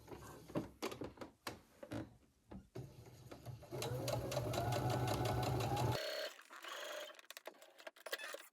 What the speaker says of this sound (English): I am going to do this on the machine and stitch very close to the edge.